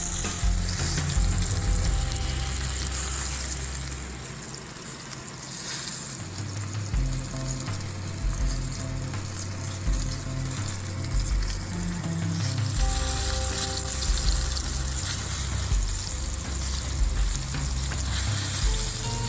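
A ribeye steak sizzles in butter in a cast iron pan, a steady loud crackling fry with a low hum underneath that holds for the whole stretch, with no talking.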